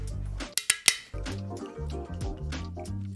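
A Moxxi's Bar Edition Ballantine's Scotch whisky bottle being opened with a few sharp clicks and snaps of the cap, then liquid glugging steadily as a shot is poured, close up and alone.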